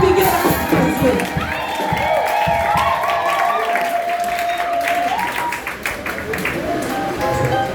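A church congregation claps and cheers for a worship band, steady dense applause with shouting voices and ringing musical tones running through the whole stretch.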